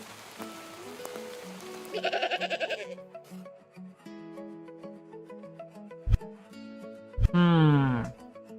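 A goat gives a few drawn-out bleats, the loudest coming near the end, with a shaky, vibrating burst earlier on. Rustling and rubbing noises fill the gaps, and a low hum runs underneath the whole time.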